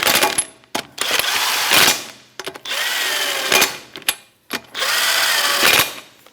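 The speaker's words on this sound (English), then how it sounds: "And that's a 21 millimeter socket, and we'll just snug them up and then torque them to factory spec." A power tool drives a 21 mm socket, snugging lug nuts on a 2008-2013 Nissan Rogue: several close, loud whirring bursts of a few seconds each, separated by short pauses and clanks.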